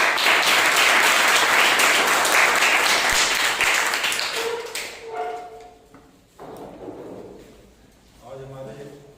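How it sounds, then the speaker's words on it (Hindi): A church congregation at a Sunday service bursts into loud, full applause that carries for several seconds, then dies away as scattered voices and light movement take over. "आइए हम लोग उस सच्चे और जिंदा परमेश्वर के लिए जोरदार तालियां।"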